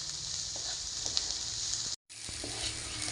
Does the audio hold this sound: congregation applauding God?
no